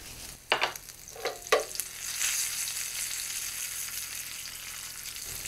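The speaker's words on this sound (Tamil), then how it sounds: "எண்ணெய் சூடானதும் இதில் கடுகு, உளுத்தம்பருப்பு, காயம், காஞ்ச மிளகாய்," Mustard seeds, urad dal, asafoetida, dried chillies and curry leaves temper in hot oil. A few sharp pops and spatters open into a steady, soft sizzle, close and without talk.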